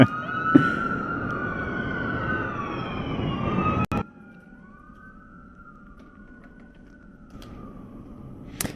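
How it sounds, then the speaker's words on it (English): Wailing sirens rise and fall in the distance during a cricket match in Texas, fading out partway through and then returning faintly. "as a few sirens ring out in the background"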